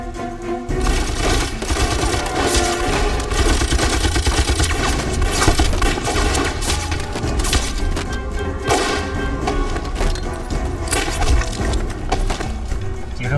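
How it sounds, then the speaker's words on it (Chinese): Dense, relentless gunfire fills a battle scene in a Chinese anti-Japanese war film, rifle and machine-gun volleys crackling loudly and continuously with thuds mixed in and no break. "几声子弹啊！"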